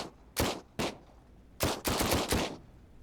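Several sharp bursts of gunfire, a couple of single shots followed by a rapid cluster of shots, with a low rumbling background between them.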